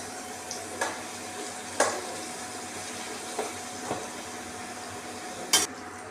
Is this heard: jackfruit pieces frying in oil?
yes